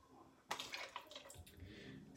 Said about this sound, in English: now I'm spooning out my beautiful broth